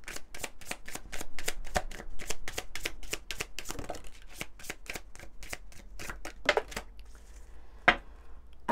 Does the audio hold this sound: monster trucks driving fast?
no